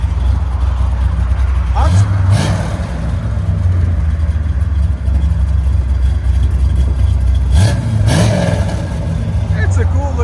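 A 1969 Chevy Corvette Stingray V8 convertible with headers and a Flowmaster Super 44 exhaust idles with a deep, steady rumble while backing out, swelling with a couple of brief throttle blips. People talk briefly nearby.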